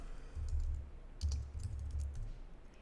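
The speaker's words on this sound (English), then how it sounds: "Okay, so I'm going to type in git clone." Someone types on a computer keyboard, a short quick run of soft key taps in two bursts at close range with no talking.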